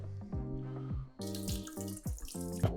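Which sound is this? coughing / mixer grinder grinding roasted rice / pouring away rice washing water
pouring away rice washing water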